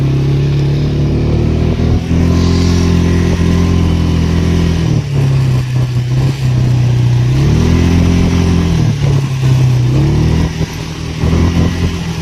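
An ATV engine at Landa Resort in Suan Phueng, Ratchaburi, revs and accelerates loudly and close, with its pitch rising and falling in surges across the whole stretch.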